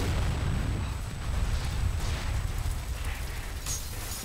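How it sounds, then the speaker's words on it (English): A grenade goes off in the video game F.E.A.R., a heavy rumbling blast with rolling low-end booms and crackling debris that stays loud across the few seconds. "Oh, he threw a nade."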